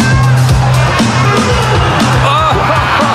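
A packed crowd roars and whoops at a breakdance battle during the Red Bull BC One 2022 World Finals in New York City, a loud, dense wall of cheering with rising yells over a steady low musical beat.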